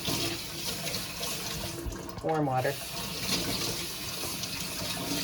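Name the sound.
running tap water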